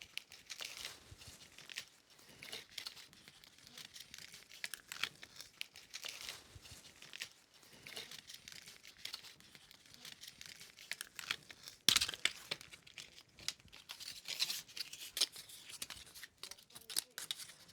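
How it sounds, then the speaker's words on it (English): Tape is torn and pressed onto a hat frame, with close, faint crinkling and ripping in irregular bursts and short quiet gaps between them. "I'm going to tape this guy at this point"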